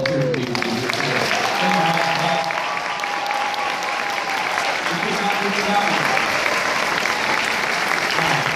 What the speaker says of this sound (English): How about a round of applause for your parents and all the rest of the adults who volunteer to be with you here today?